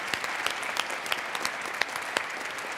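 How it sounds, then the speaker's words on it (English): Audience applause for panelists at a conference event in Amsterdam, a steady wash of many hands clapping with a few sharper claps standing out, fairly even and moderately distant throughout. "Big round of applause for these wonderful panelists."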